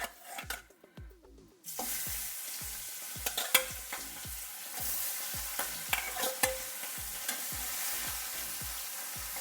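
Pabda fish frying in hot oil in a pan, with a quiet opening before a loud, steady sizzle sets in, broken by repeated scrapes and clinks of a utensil nearby, and no voices.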